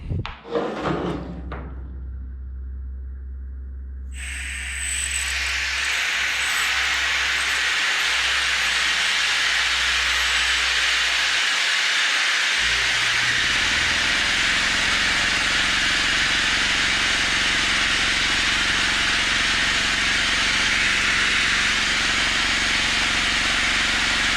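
An air compressor hums and hisses steadily after a few seconds of clunks, settling into a continuous roaring drone with a low rumble underneath.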